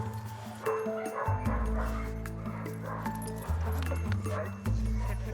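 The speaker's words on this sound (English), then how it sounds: "she growled there at him just to say, back off" At a vet check, a Rottweiler growls in a low, rumbling series of snarls that rise and fall in several bursts, close and fairly loud, with a sharp yip mixed in.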